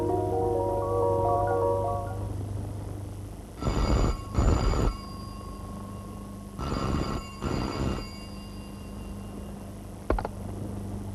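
An old-style telephone bell rings twice in long double bursts, loud and close, separated by a pause of a few seconds.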